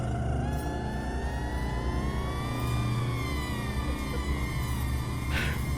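A police car siren wails in the Cities Skylines city-builder, a rising and falling electronic tone sweeping steadily over a low engine rumble, fairly near and alone without talk.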